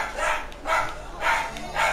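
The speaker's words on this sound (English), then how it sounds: "Sorry if you can hear my dogs barking in the background." Dogs bark in a household setting in several spaced bursts about every half second, moderately loud, behind video game audio.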